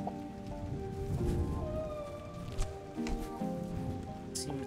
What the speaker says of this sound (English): It seems so sad and rainy.